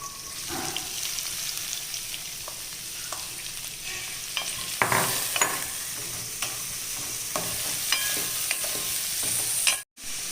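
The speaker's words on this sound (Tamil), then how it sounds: "இப்போ வெங்காயம் போட்டு பொன்னிறம் ஆகிற வரைக்கும் வணக்கிக்கலாம்" Onions sautéing in a pan for bread chilli, with a continuous low sizzle close by, occasional stirring scrapes and clinks, and a brief dropout near the end.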